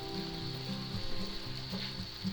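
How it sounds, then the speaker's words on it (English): Onions and mushrooms sautéing in a pan, a soft steady sizzle with faint crackles and a light rhythmic scraping, fairly quiet and close with no talk. "let's saute our onions and mushrooms"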